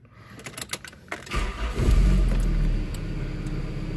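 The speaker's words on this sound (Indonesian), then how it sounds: "Dan kita start mesinnya" Toyota Great Corolla 1.6 SE.G from 1994 with a five-speed manual, a few clicks, then the starter cranks and the engine catches into a steady idle close by.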